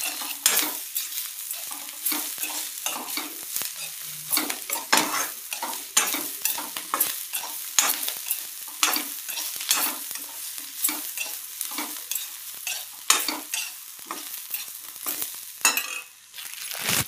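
Onion, garlic, ginger and dried coconut roast in a pan, a spoon scraping and stirring in quick repeated strokes over a constant sizzle, with occasional metallic clinks, close and loud throughout.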